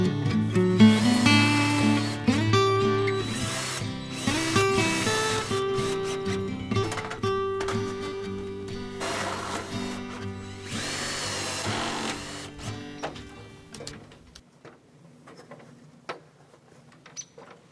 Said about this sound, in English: I'm going to screw all these sections of pipe together, so when I go up the ladder, they're going to go up as one piece.